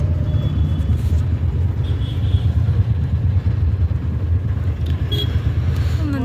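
Heavy city traffic with motorcycles in Kolkata, a dense continuous rumble of engines close by with clattering and occasional faint horn-like tones, heard without talk.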